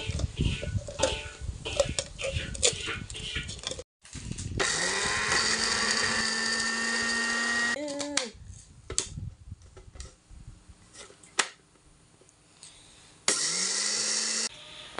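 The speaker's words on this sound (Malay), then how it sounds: "Kena blender" An electric blender roars in two bursts, blending dried chillies and seeds for lime pickle, the motor pitch rising as it spins up, with quieter kitchen clatter between.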